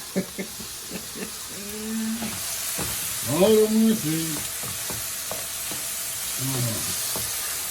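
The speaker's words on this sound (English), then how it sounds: "Give it a stir." Food sizzles in a pot with a steady hiss while a utensil stirs and taps, as a few people talk briefly over it.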